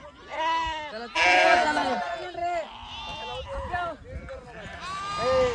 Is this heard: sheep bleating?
yes